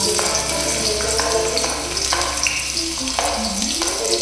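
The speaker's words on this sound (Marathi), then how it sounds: "कांदे आपल्याला छान भुजायचे आहे" Onions fry loudly in a masala for cashew curry, a dense continuous sizzle broken by repeated scraping strokes of a spoon against the pan.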